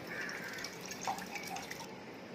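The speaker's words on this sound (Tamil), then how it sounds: "இனி இந்த ஓட்டை போட்டு அப்படியே இந்த பாத்திரத்தில் அப்படியே ஊத்துறணும்" Red tender coconut water pours from a freshly cut coconut into a vessel: a faint trickle with scattered small drips over steady low background noise, and no talking.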